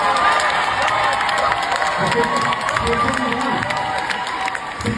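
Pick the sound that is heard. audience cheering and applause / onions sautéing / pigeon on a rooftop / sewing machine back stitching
audience cheering and applause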